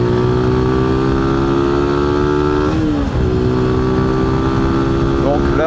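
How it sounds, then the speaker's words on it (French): A Mash 125 Black Seven motorcycle accelerates hard along a straight road, its engine note loud and close, climbing steadily with a brief dip at a gear change before rising again, a rider's voice faintly under the engine. "je vais faire un peu une accélération sur cette ligne droite"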